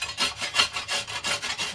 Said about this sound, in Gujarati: તો હવે આપણે આ દૂધને આ ખમણીની મદદથી ખમણી લઈશું